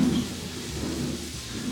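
Low thunder from a thunderstorm outside rolls steadily through the whole stretch, a continuous muffled rumble with faint rain-like hiss above it and no talking.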